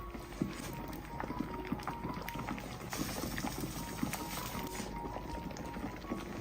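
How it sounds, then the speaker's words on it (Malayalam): Water boils in a cooking pot ready for rolled chapati dough, a low, busy bubbling with scattered small pops, fairly quiet and steady throughout. "ഇപ്പൊ വെള്ളം തിളച്ചിട്ടുണ്ട്."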